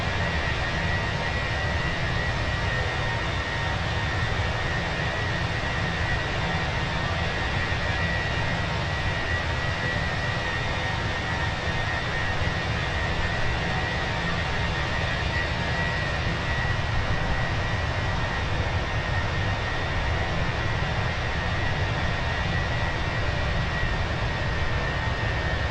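Airbus A320 jet engines spooling down inside Microsoft Flight Simulator, a steady broadband roar with a constant whine held evenly throughout, no speech over it.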